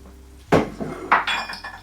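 A ladle works through 15 kg of spicy chicken biryani with green chillies and vinegar in a large metal pot, producing two loud, close clanking scrapes against the pot with quieter rustling between.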